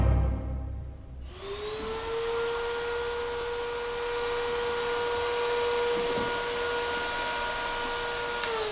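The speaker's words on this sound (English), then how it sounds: "There's a lot of rooms to hoover, and you're not just hoovering the floors, are you?" A vacuum cleaner hoovering floors and furniture in a stately heritage house drones steadily and loudly from start to finish, starting up after a quiet second with a constant whining hum, with no talk over it.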